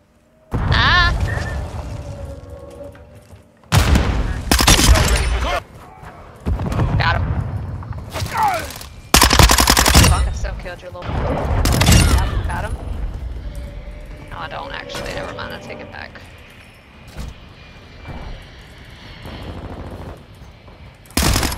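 Rifle gunfire in a Call of Duty Modern Warfare II hardcore team deathmatch, with loud bursts of shots arriving in clusters through the match and a player talking over them.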